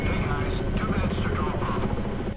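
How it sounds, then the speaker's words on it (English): A helicopter closes in on a New York high-rise in a film scene, its rotor and engine roar loud, steady and continuous, with no break and no voices. "The sound of a helicopter approaching one of the high-rise buildings was heard"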